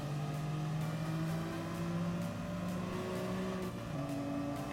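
BMW M3 E46 engine heard from outside the car in Gran Turismo Sport, a steady inline-six drone whose pitch rises and shifts through gears, continuous and moderately loud with no voices.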